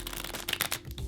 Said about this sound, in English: give them some shuffles, make sure everything's still, on the up and up.